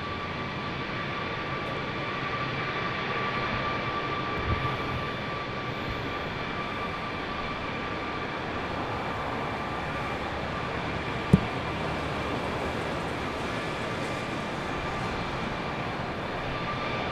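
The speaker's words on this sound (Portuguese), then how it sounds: "Foi uma altura com dois aviões para sair, um EasyJet e outro provavelmente a Inter" Jet airliner, an EasyJet, taking off at Madeira Airport: a steady, distant engine roar with a sustained whine holds level throughout, with one sharp brief click partway through.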